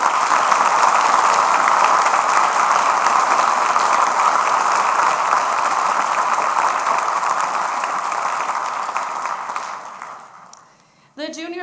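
An audience at an academic awards and National Honor Society induction ceremony applauds loudly and steadily for about ten seconds before the clapping fades out near the end.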